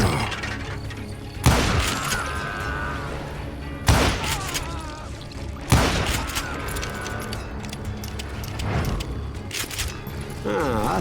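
Repeated gunshots from a Western shootout in the video game Call of Juarez Gunslinger, sharp loud cracks at irregular intervals, about five shots over a rumbling game soundscape.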